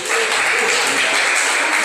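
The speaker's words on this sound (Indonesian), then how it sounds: "Tepuk tangan buat Yesus," Applause from a church congregation right after a conversion testimony, with steady dense clapping filling the whole moment, loud and continuous with no pauses.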